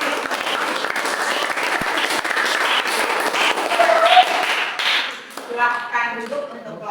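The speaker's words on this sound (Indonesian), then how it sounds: "Jadi sebagai kelompok penutup kita berikan aplaus yang paling kuat." A classroom group of students gives a strong round of applause at the close of a group discussion session. The clapping is loud, dense and steady for several seconds, then thins out into voices talking.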